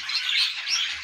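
Pet yellow birds in a cage give a brief, high, close run of chirping and twittering lasting about a second, with no voices.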